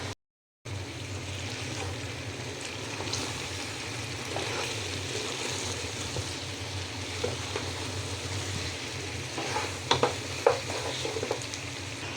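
Beef and potatoes fry in a pot for a thin Bengali beef curry, a soft continuous sizzle with scattered scrapes and taps of a stirring spoon, fairly quiet, with no talk.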